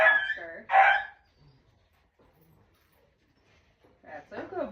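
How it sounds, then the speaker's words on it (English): A dog on a farm with horses gives two short, loud barks close by, then a long near-silent stretch before a person begins talking. "What did I say about barking at the cat?"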